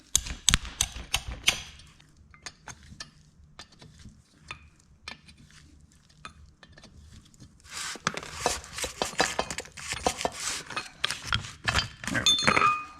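Wrench work removes the 9/16 head bolts from a John Deere two-cylinder power steering pedestal, a run of sharp metallic clicks and ratcheting ticks close by, growing busier and louder with clinking toward the end.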